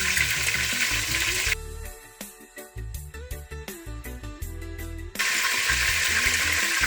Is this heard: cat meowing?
no